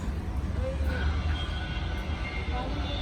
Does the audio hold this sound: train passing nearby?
yes